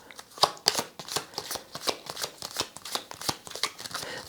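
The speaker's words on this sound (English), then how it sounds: "I do shuffle my cards and all every time before I do like every new group." Tarot cards get riffled and shuffled in quick, crisp bursts, close up and continuous, with no voices over the papery flutter.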